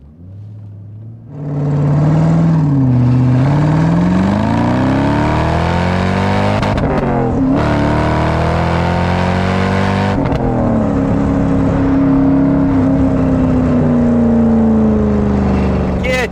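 A Corvette C5 V8 engine revs up loud and close, its pitch climbing and falling through several sustained rises, with a person talking over the engine note.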